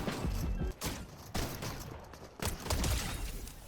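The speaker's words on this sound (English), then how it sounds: "I shot the wall twice" Gunfire striking a wall in the Fortnite video game: several quiet, short rapid bursts spaced about a second apart, with no talk over them.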